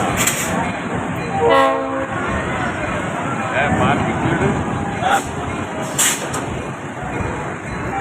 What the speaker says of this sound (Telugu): ఈ ట్రైన్ బయలుదేరిందండి